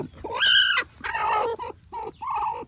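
A broody native hen clucks and squawks in a few short, rising calls as it is handled, close and fairly loud, with brief pauses between them.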